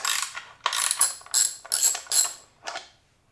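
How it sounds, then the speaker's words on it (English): Ratchet wrench loosening a bolt on a bike, six or so quick bursts of rapid clicking separated by short pauses, close and crisp, then silence. "Okay, got that bolt off."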